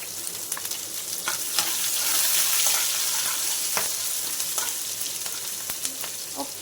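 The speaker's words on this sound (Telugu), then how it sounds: "జీలకర్ర మంచిగా ఫ్రై అయిపోయింది కదా, ఇప్పుడు ఫస్ట్ ఇందులో అల్లం వెల్లుల్లి ముక్కలు అలాగే పచ్చిమిర్చి ముక్కలు కూడా వేసుకోవాలి." Chopped ginger, garlic and green chillies fry with cumin seeds in hot oil, making a loud continuous sizzle close by. Occasional spoon clicks and scrapes cut through it.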